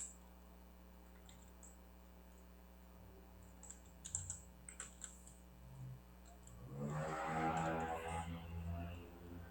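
Computer keyboard typing at a coding class working on git commands: a few faint, scattered key clicks, then a louder, denser burst of keystrokes near the end.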